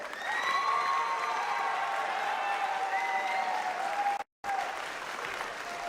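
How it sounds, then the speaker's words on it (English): An audience at a high school JROTC awards ceremony claps in a steady, dense round of applause with some cheering on top, cut by a brief dropout of silence before resuming. "one more round of applause for our Cadet of the Year."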